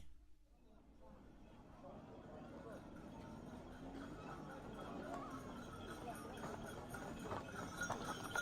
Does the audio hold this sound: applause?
no